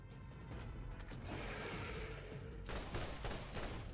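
Gunfire in Borderlands during an arena fight against an armored creature: a dense, sustained rattle of shots with a heavier burst near the end, loud and continuous, with no voices.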